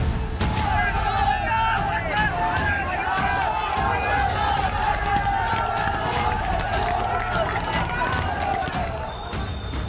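A crowd of protesters in Moradabad flees from police, with a dense, loud rush of running feet, shouting and general commotion, and sharp bangs and thuds scattered throughout, under a news narrator's voice.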